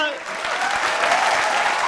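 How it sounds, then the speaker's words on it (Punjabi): Loud, dense applause from a TV studio audience fills the whole two seconds, a steady wash of clapping from a crowd with some voices mixed in. "ਜ਼ੋਰਦਾਰ ਤਾੜੀਆਂ"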